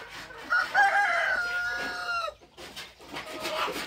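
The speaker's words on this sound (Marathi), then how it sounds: "ही माझ्या कोंबड्या या आहेत माझ्या कोंबड्या" A rooster crows loudly and nearby, one long drawn-out call, with hens clucking softly in the background, in a chicken shed.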